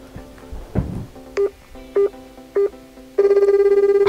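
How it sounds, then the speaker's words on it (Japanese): A call is placed on a telephone: a series of short dialing beeps sounds, then a steady repeating ringback tone pulses loudly over a quiet room. "しばらく時間を置きましたので、もう一度友達に電話かけてみたいと思います。"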